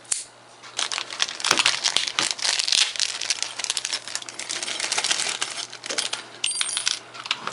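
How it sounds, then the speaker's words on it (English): Small 6mm plastic airsoft BBs pour out of a Ruger Mk 2 magazine in a dense, continuous rattling patter of tiny clicks, close and fairly loud throughout. "First thing I'm going to do is take all of these BBs out."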